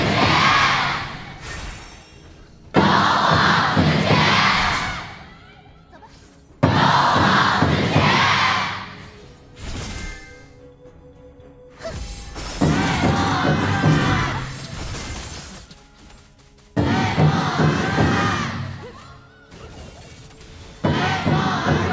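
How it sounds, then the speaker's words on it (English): Crowds of esports fans at the KPL grand finals roar and chant in loud bursts that rise and fall several times, broken by short lulls of quieter arena noise. "Both sets of fans cheering for their team"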